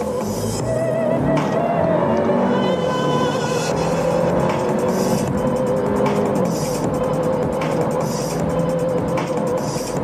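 An Audi A5 with a 2-liter engine accelerates from 40 km/h, a steady rising engine drone heard from inside the cabin for about ten seconds without pause.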